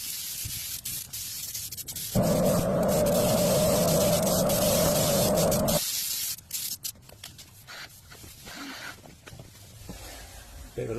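A spray gun lays Final Systems Ultimate Clear coat onto a BMW i7 in a refinishing booth, giving a steady loud hiss of about four seconds that cuts off cleanly, with quieter shuffling and handling sounds before and after.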